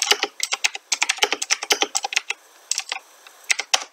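Commands for Minecraft typed on a computer keyboard: a fast, close stream of clicky keystrokes with a brief pause, then a few more taps, and no voices.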